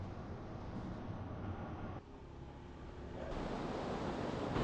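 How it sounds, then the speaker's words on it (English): Ocean surf in Bali, a constant rushing wash of breaking waves heard at a distance, softer for a moment and then swelling louder again, with wind noise on the microphone. "The waves were definitely bigger."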